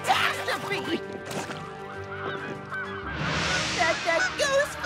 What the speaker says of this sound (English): That goose flock is about to land in.